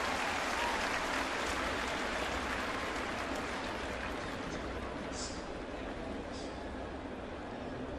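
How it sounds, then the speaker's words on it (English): A big stadium crowd at a Thursday afternoon baseball game between the Angels and Yankees in New York, a steady broad roar of many voices with scattered clapping, loud and continuous throughout. "Big crowd here at the stadium"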